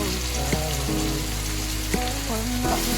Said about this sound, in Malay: So kita tumis dulu bawang tadi, bawang putih dengan bawang merah.